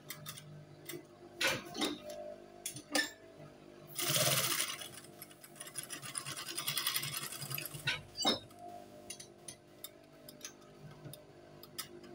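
A sewing machine top stitching a trouser waistband runs in short bursts, with one longer steady whir midway, separated by quiet handling clicks and taps, close and fairly soft.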